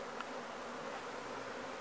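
A swarm of bees drones steadily while being transferred into a standard hive, a dense, continuous buzz filling the air close by with no voices.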